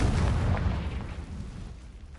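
A Confringo fire spell in Hogwarts Legacy bursts with a loud, deep, rumbling explosion that starts at full strength and slowly fades across two seconds, heard on its own.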